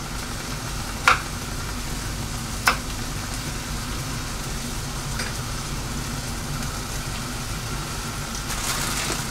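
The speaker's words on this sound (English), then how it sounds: "Let's put in some more onions." Onions sizzle in a hot pan while carne asada tacos are being made, a steady, moderate hiss throughout broken by two sharp clicks or knocks early on, and no one speaks.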